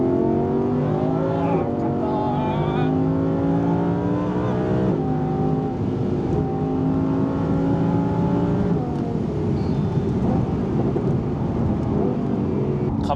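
Audi R8 4S supercar engine and exhaust revving steadily throughout, a loud, continuous drone with rising and falling harmonic sweeps as the revs climb and settle, close by.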